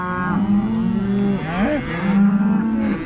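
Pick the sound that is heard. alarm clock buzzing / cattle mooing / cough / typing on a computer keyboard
cattle mooing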